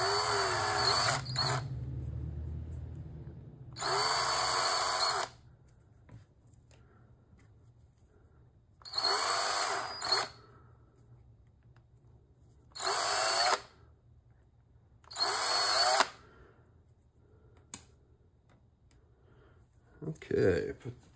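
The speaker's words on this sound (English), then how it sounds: "drill these out real quick" A power drill bores out the plastic body retention posts on a Traxxas RC car body, running in about five short bursts of high whirring with quiet gaps between them, heard up close with a little handling noise.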